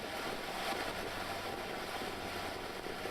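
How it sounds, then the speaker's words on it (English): Boat engines idle at no-wake speed on a river near a bridge, a low steady drone under wind and water wash that stays even throughout. "just at no wake speed here, very slow. Engines are at idle."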